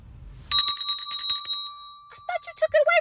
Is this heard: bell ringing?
yes